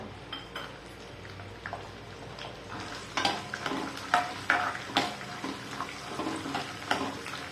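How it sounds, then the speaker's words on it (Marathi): Pavta beans frying in oil with cumin in a pan, giving a soft continuous sizzle and intermittent scraping stirs that grow louder midway, heard close with no voices. "एक पाच ते सात मिनटं मस्त परतू द्यायचा तेलामध्ये"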